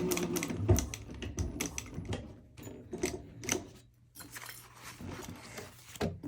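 A sewing machine stitches a fabric purse in short, irregular bursts of rapid clattering, close up, with brief pauses between runs.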